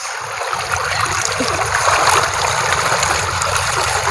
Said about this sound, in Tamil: தண்ணி உடச்சு விட்டுக்கிறோம்